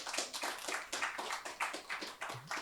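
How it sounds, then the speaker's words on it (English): Audience clapping at a UKIP London political hustings, a short burst of scattered hand claps at moderate distance, fairly soft and alone without voices. "thank you for the applause"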